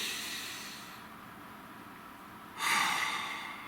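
A slow, deep breath is drawn in as a soft, steady hiss close to the listener. It is followed by a louder, breathy exhale near the end, with no talking.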